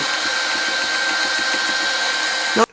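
A loud, steady whooshing heat tool runs continuously at close range, drying a mixed media collage, then cuts off abruptly at the end.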